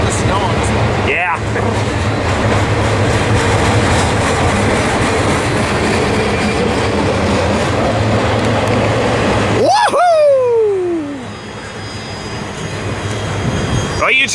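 A snow-covered freight train thunders past close by at Cajon Pass, a loud continuous rumble and clatter, with a falling horn-like tone near the end as it fades.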